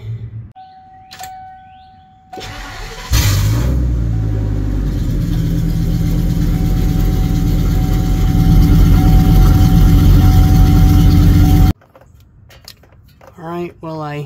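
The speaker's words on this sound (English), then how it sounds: "I'm gonna crank it up, let it run for a while" An engine on a vehicle with a welded steel fuel tank cranks briefly and catches, then idles loudly and steadily up close before cutting off, with someone speaking briefly before and after.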